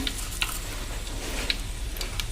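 Bay leaves sizzle in hot oil in a pot for chicken biryani, a steady close crackling hiss with scattered sharp pops throughout.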